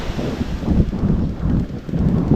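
Seaside wind gusts across the microphone at a beach cottage in Bucana, a loud, rushing buffeting that swells and eases in waves.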